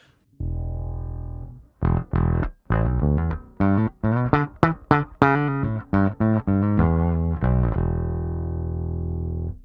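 Bass guitar through a filter preamp playing a choppy riff with sustained low notes and punchy plucked bursts, a filtered midrange tone coming through, loud and close with no voices.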